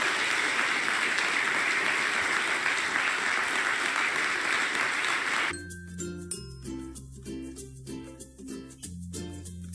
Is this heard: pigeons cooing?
no